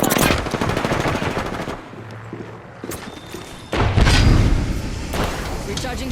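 Automatic gunfire in the Apex Legends video game, with rapid bursts of shots, loud and close, broken by short pauses and heavier impacts mixed with game effects.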